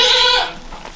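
A heavily pregnant doe goat lets out one loud, close bleat that tails off within half a second, leaving quiet farmyard air.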